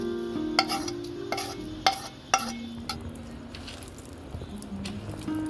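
Taro, chili and onion are mashed together by hand for a spicy bhorta, with soft squishing and kneading close up and a few sharper taps on the bowl now and then.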